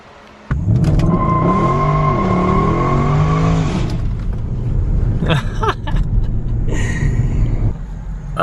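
A Mercedes-AMG, fixed for going into limp mode, with a newly installed pedal pulls away and accelerates down a road, its engine note climbing loudly and close, with a few sharp bursts and shifts later on.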